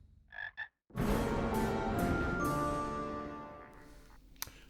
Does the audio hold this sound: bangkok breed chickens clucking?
no